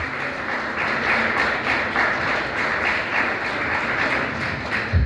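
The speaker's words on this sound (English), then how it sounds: "Let's give them another round of applause." Audience applause for two panelists at a talk on the US military buildup in the Philippines, a steady, even wash of many hands clapping that holds throughout at moderate level.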